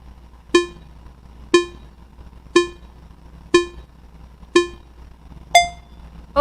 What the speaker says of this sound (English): Let us have the timer again.